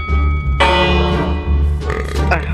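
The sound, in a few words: doorbell ringing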